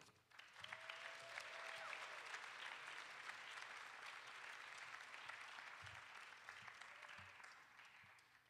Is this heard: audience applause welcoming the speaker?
yes